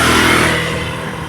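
A motorcycle engine revs loudly and close, a rough, buzzing roar that holds steady and then eases off slightly, with no voices over it.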